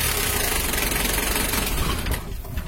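Radiator visco fan on a Mitsubishi L300 with worn-out silicone fluid keeps whirring hard after the engine is switched off. A loud, continuous close-up rush with a rattling edge eases slightly near the end.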